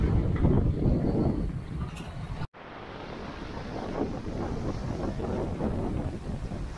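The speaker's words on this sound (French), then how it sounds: "Là, on a une belle houle qui nous pousse avec un vent établi entre 10 et 15 nœuds." A sailboat runs before a swell in a steady 10 to 15 knot wind at 7 to 8 knots, bound for Guadeloupe. Gusty wind rushes and buffets the microphone over a low wash of water and hull noise, broken once by a brief dropout.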